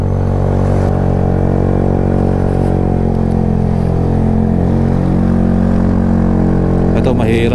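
A motorcycle engine strains at full throttle while climbing a steep uphill road toward a mountain viewpoint, a loud continuous drone with wind buffeting and a rider's voice over it.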